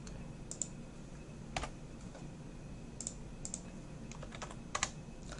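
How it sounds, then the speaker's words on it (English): Numbers being typed on a computer keyboard, scattered quiet key clicks in small bursts with pauses between them, close but faint, no talking. "I think I typed the wrong number."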